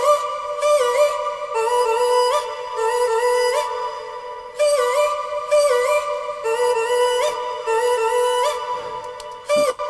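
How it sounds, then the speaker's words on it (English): A vocal chop built from a reworked sample of the singer's voice repeats in short, pitched, stuttering bursts, a tight rhythmic hook playing alone and loud with brief gaps between phrases. "the vocal chop that I've got down here"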